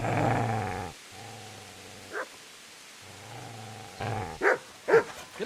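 A dog in Kingdom Come: Deliverance growls low and rumbling, then breaks into a few short sharp barks and yips near the end, close and fairly loud.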